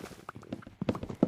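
Horse hooves clip-clop in Minecraft, a quiet run of irregular, close hoof taps that grows a little louder toward the end, with no voices over it.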